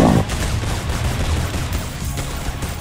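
Gunfire in the Roblox game Item Asylum, a dense, steady barrage of shots running throughout without a break, loud and close, with no voices.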